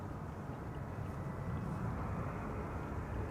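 Distant broadband roar of a Boeing 747 on landing approach at Schiphol airport's Kaagbaan runway 06, a steady low rumble holding even for several seconds with no talk.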